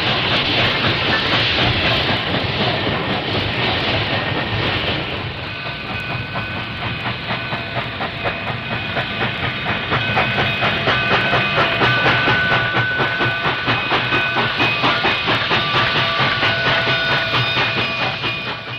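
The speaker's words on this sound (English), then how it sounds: "the 2886 enters the yard to set out her train of coal hoppers" A New York Central steam locomotive, No. 2886, rumbles into a rail yard hauling coal hoppers, with steady rhythmic clickety-clack of wheels over rail joints, a hiss of steam and a held whistle-like tone, loud and close.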